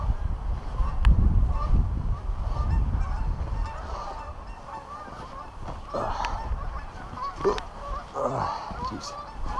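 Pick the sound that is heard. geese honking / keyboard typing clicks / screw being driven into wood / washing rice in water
geese honking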